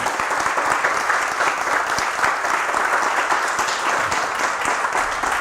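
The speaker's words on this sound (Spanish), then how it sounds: "un fuerte aplauso para el Jajam Abraham Tobal" Loud, sustained applause from an audience in a hall fills the whole stretch, dense and even clapping with no break.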